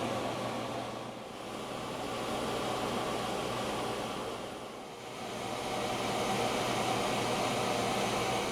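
A vacuum pump evacuating a Honda air-conditioning system makes a steady, dense hiss-like drone that holds even throughout, dipping briefly twice. No speech.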